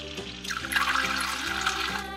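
Tap water runs steadily into a sink while a toy is rinsed under it, a close continuous splashing stream with no talk.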